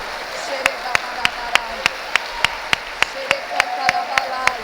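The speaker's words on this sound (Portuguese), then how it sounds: "Dê um aplauso a Jesus." Steady rhythmic clapping in a church service, sharp evenly spaced claps about three per second, with voices and a low background murmur underneath.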